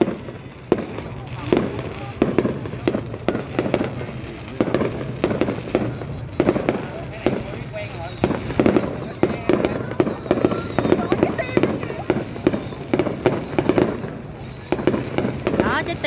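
Fireworks display over Long Khanh city in 2023, a dense run of sharp bangs and crackles echoing continuously, heard from a distance with people talking in between.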